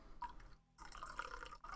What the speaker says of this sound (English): I'm going to pour out more tea.